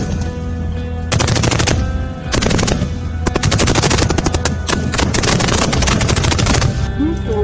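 Indian Army firepower demonstration at the Pokhran field firing range: loud, rapid bursts of automatic machine-gun fire, several long volleys separated by brief pauses, dense and sustained.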